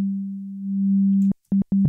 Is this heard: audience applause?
no